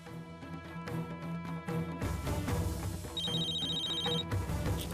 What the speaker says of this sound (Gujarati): ફોન વાગે છે, ઉપાડી લે